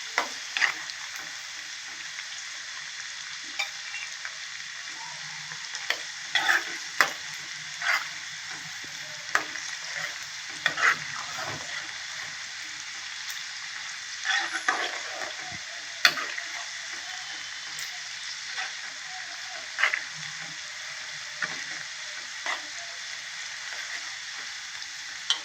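Corn kernels deep-frying in hot oil until crispy, a steady close sizzle running throughout with scattered crackles and pops, no talking over it.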